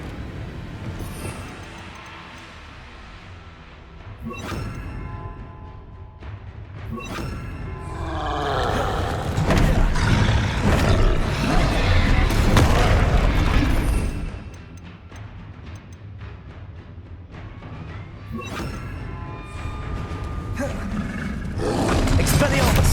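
A troll roaring in the Hogwarts Legacy video game, deep rumbling bellows that swell loudly in the middle, set against game music and effects with spoken dialogue.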